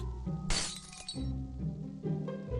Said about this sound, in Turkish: Pencere kırıldı.